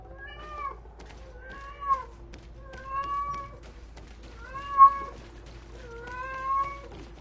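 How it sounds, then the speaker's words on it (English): A loud house cat meows five times in a row, each cry drawn out and evenly spaced, close by in a quiet room. "My cat is the loudest fucking cat known to man."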